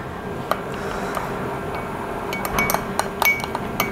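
A spoon taps and clinks against a glass while honey is stirred into apple tea, a few bright, sparse chimes close by over a low steady background, with a small cluster of clinks near the end.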